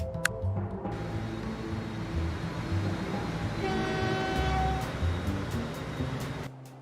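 Trains running on a line in the video game Transport Fever 2, a steady rumble of rail traffic with a sustained horn tone midway, continuous and fairly loud with no talking.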